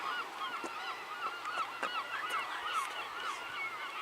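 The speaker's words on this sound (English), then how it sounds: "You can hear all the birds." Geese honking outdoors in the distance, a busy chorus of repeated nasal calls overlapping in an irregular rhythm, clear and moderately loud with no talking.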